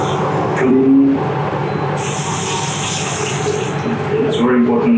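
Tap water runs steadily and loudly into a sink as food is washed, the stream changing in tone as things pass under it, with a faint tonal whine in the background.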